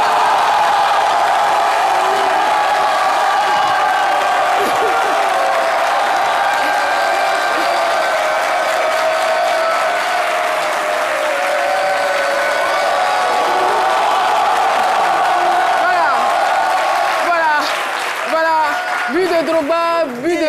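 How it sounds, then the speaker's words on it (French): A studio audience applauds and cheers like a stadium crowd after a goal, a loud, sustained roar of clapping and voices that holds steady for a long stretch, with some whoops toward the end. "je voudrais qu'on puisse applaudir comme si on était dans un stade et que Drogba venait"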